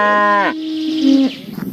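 A toy dairy cow lets out a loud, close moo with a falling pitch, followed by a second, lower drawn-out lowing and some faint handling noise at the end.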